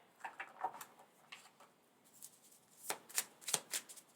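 Tarot cards being shuffled by hand, a series of soft riffling bursts close up, quiet and spaced in two clusters with no talk.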